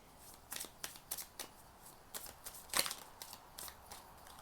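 Universal Oracle deck cards being shuffled close up: a quiet series of about a dozen crisp riffling snaps at an uneven rhythm, with no voices.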